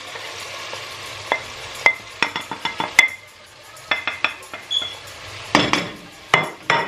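Spices stirred into onions and garlic in a pot make a run of sharp scraping and clinking utensil strokes against metal, irregular and close, over a faint background sizzle.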